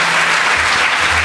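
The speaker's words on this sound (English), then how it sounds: "You just clap because I told you to." Audience applause at a security conference talk, a dense, steady wash of clapping that fills the short moment loudly with no speech over it.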